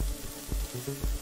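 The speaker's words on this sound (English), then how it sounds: "As you get closer, the sizzle effect will start to burn your HP." Charcoal at a barbecue grill in Grounded sizzles and crackles steadily, a loud hissing bed with three low pulsing thumps recurring at roughly half-second intervals.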